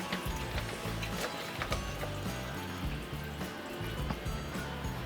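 Water runs from a repaired kitchen faucet, a soft continuous trickle and splash with faint clinks, fairly quiet and alone.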